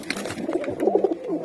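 Pigeon cooing from a domestic pigeon kept for breeding, a short soft rolling coo of a few throaty pulses, fairly close, with faint background noise and no talking.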